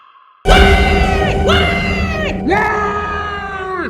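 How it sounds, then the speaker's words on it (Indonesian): A woman screams and wails loudly in long, falling cries, starting abruptly after a brief hush and continuing without pause. "kalian akan mendengar suara tangisan dan teriakan dari wanita misterius"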